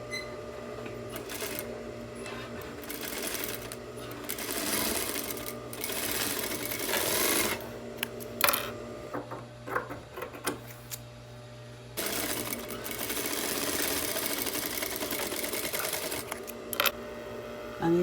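A sewing machine stitches pajama fabric in steady whirring runs, close and moderately loud, broken by short pauses and a few clicks as the fabric is repositioned.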